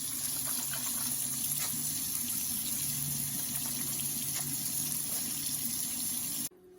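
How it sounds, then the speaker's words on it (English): A kitchen tap runs in a steady, even gush while hands are washed under it, close and continuous for several seconds before the water cuts off abruptly, with no talking. "we're gonna wash our hands"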